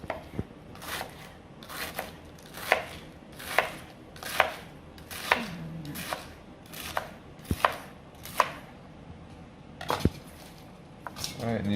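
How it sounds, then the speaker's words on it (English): A sharp knife cuts on a REZEND titanium ebony wood cutting board, giving about a dozen crisp, evenly spaced thuds up close, with someone speaking now and then. "we'll just go ahead and demonstrate some cutting"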